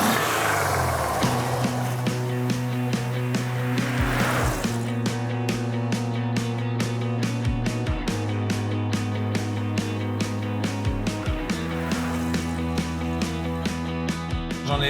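A Porsche 356 engine is revved repeatedly up close, each throttle blip rising and falling in a steady cycle with a droning exhaust note throughout.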